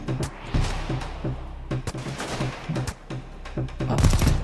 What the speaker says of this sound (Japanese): こんな感じでね、撃てばいいんですよ